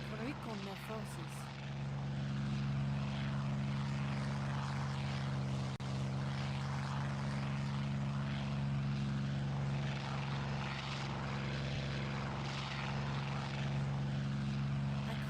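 Propeller drone of a captured German warplane in a video game: a steady droning engine hum throughout, with brief voice chatter at the start.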